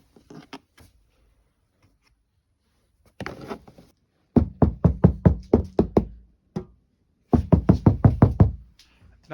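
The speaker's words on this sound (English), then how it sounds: "when you're knocking on the door, there's a big difference" Knuckle knocks on the door of a Renault Megane EV, heard as a few isolated taps followed by two fast bursts of about eight sharp, hollow knocks each, close and fairly loud with short pauses between.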